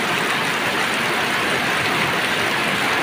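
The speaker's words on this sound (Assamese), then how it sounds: "ধাৰাসাৰ বৃষ্টি ৰাতিপুৱাৰ ভাগত ফ্ৰেণ্ডছ দেখিছে এয়া ধাৰাসাৰ বৃষ্টি" Heavy morning downpour in Assam, a dense, loud, unbroken hiss of rain falling steadily on surfaces for the full three seconds, with no voices.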